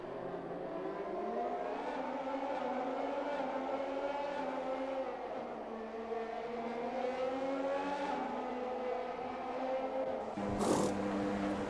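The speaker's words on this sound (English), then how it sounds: "Mr. Neon has caught up to the back of Darth Morris now" Formula 1 cars race around the Monaco circuit in a video game, with engine notes rising and falling as they accelerate and shift. The sound is continuous and moderately loud, and a brief burst comes near the end.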